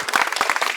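Brief applause from an audience at a daily quiz held at a medical college and hospital, a short flurry of quick handclaps, close and moderately loud.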